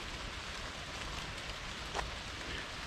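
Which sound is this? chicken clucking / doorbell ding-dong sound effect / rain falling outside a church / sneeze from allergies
rain falling outside a church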